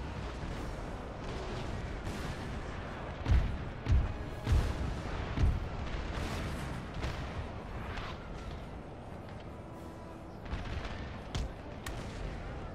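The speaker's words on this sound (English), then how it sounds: "It's not a gun volley, it's a cannon volley." Cannon volley in Napoleon Total War: a run of deep, booming artillery shots fired in quick succession over a dense rumble of battlefield noise, followed later by a few more distant blasts.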